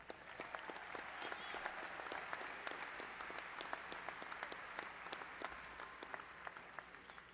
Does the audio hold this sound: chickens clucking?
no